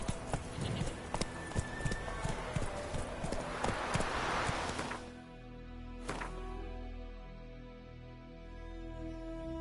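A horse's hooves clip-clop in a rapid rhythmic gait in The Witcher 3 video game, loud and close, then the beat fades and gives way to a softer, steadier hum, with a sharp click and brief neigh-like tones near the end.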